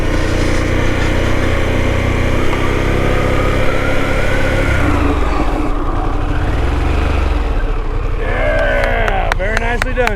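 A Harley-Davidson Pan America motorcycle engine is heard during off-road training, a loud, close, continuous engine drone whose pitch rises and falls as the bike accelerates and slows.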